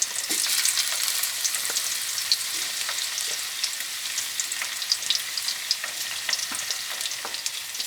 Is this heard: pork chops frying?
yes